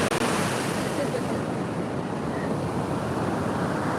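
Ocean waves wash onto a beach in a continuous, loud rushing roar of surf mixed with gusty wind noise on the microphone, with no clear breaks between waves.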